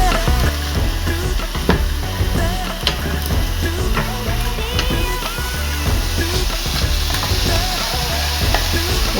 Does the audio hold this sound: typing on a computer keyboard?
no